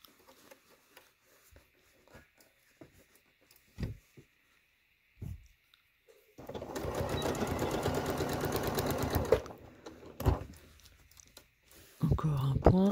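A sewing machine stitches a top made from the Miss Calypso pattern, running in one steady, fairly loud burst of about three seconds mid-clip, with light clicks and handling noises before and after.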